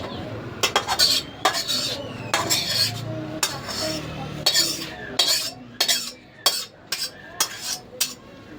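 Cooked Maggi noodles are scraped and poured from a metal pan: a run of sharp, close clanks and scraping clatters of utensil on pan, irregular and loud, with a low background hiss.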